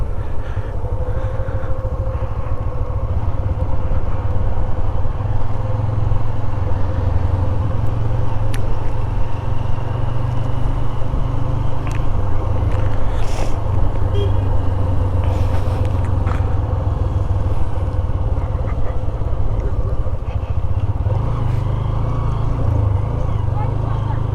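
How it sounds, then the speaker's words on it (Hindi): A motorcycle rolls down a steep mountain road toward Babusar Top in gear, its engine a steady low drone beneath continuous wind rush, with a voice talking over it now and then. "खुद ही नीचे जा रहा है बाइक, बिकॉज ये सारा उतराई है"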